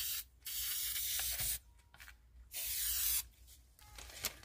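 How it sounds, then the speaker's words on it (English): Several bursts of aerosol spray hiss out in short and longer blasts, separated by brief quiet pauses, close up. "I think I'm going to go ahead and try to spray a little something."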